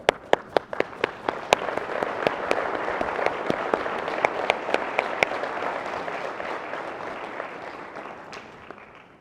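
An audience at a fire academy commencement and badge pinning claps, opening with a few sharp, distinct claps that swell into sustained, fairly loud applause and then slowly taper off.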